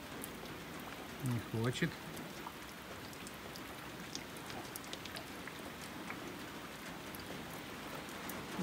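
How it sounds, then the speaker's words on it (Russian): Steady light rain patters continuously on a surface during a fishing trip, with a short burst of voices and a brief spoken phrase in Russian near the start. "Вот уже и дождик заканчивается"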